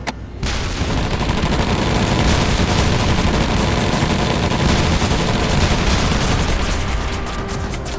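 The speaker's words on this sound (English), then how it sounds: "hopefully we can cut through that with our machine guns and, of course, our tank turrets." Dense, continuous machine gun and tank turret fire in a World War II video game battle, loud and relentless rapid shots with booming blasts merging into a steady roar for the whole stretch.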